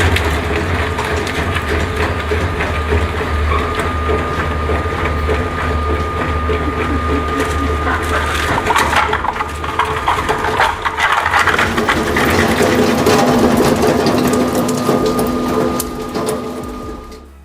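Industrial shredder blades crushing material for metal recycling, a loud continuous grinding and cracking with a steady machine hum beneath, splintering and crunching throughout, intensifying toward the end.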